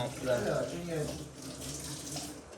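Tap water runs while preparing Maggi noodles in a home kitchen, a faint steady splashing stream with people talking over it.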